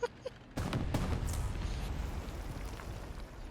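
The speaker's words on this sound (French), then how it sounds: "attention à l'artillerie." Artillery fire in a video game, a sharp boom at the start followed by a sustained dense roar of distant explosions and gunfire rumbling on with little variation.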